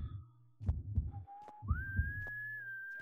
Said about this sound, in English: I hear the whistle.